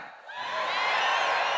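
A church congregation at a pastor's Spanish-language service shouts and whoops together, a loud, sustained roar of many voices that swells after a brief quieter moment and holds steady to the end.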